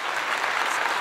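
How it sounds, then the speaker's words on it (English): Brief burst of applause during a live cooking show where enchiladas are being made, a dense, even patter of clapping heard on its own. "Applause on that."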